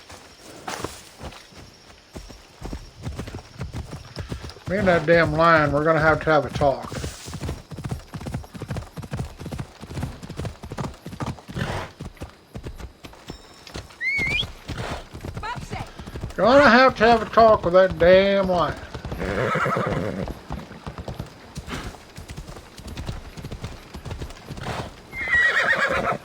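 Horse hooves clip-clop steadily while the horse neighs loudly a couple of times in the Assassin's Creed Odyssey VR game, with someone talking over much of it.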